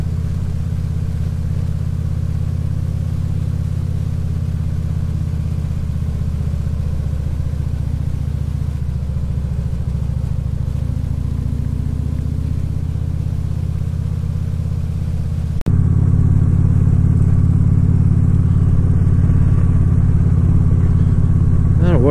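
A vehicle drives at night with a constant loud, low engine drone and road rumble throughout, and the pitch and level shift upward partway through.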